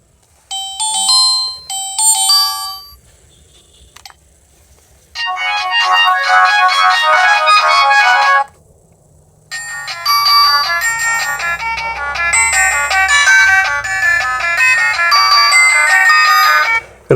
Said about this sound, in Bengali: তার আগে আমি ফোনটির যে রিংটোনের সাউন্ড একটু চেক করব